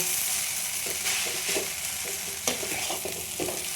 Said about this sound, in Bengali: এবারে দিয়ে একসঙ্গে নাড়তে থাকবো